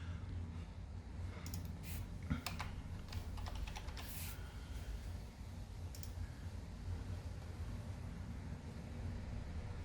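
Fingers type a verification code on a computer keyboard, a run of quick, light key clicks in scattered bursts over a steady low hum of background noise.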